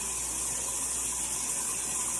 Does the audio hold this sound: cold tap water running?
yes